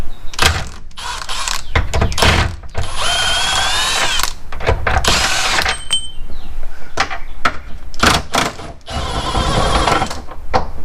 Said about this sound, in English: So got my Milwaukee 3/8 impact,